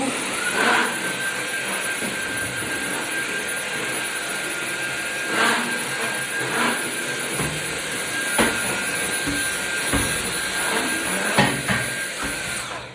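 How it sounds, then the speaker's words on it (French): A steady, loud whooshing drone of a vacuum cleaner runs throughout, with a high whine on top and occasional bumps and knocks. "Donc, je passe l'aspirateur."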